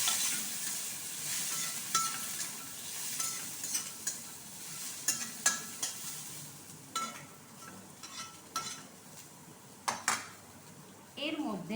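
Cauliflower florets and green peas stir-fried in a wok: continuous loud sizzling with repeated metal utensil scrapes and clinks against the pan, close and busy throughout.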